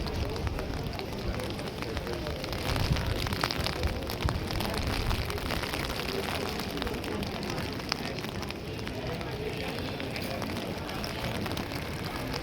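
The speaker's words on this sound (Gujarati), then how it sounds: "વરસાદ આવે છત્રી તો દે." Rain falls outdoors in the city of Brussels as a steady, fine pattering hiss with scattered drops, moderately close and continuous throughout.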